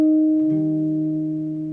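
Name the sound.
jazz guitar playing pure major resolution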